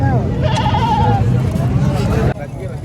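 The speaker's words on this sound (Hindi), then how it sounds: "दो दांत बकरी है भाई" A goat bleats loudly and close by at a crowded livestock market in Sindh, a wavering cry lasting over a second amid crowd murmur.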